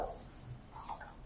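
Pen or marker scratching out notes on a board during a maths lesson, a short burst of close scribbling strokes with no talk.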